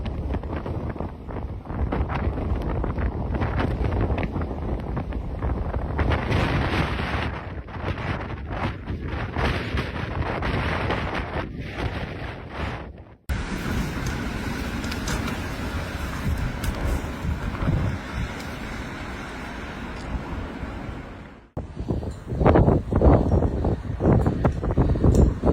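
Strong wind from a heavy Ontario snowstorm rushes and buffets against the microphone in a dense, continuous roar, broken by two abrupt cuts.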